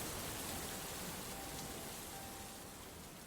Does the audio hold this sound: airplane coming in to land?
no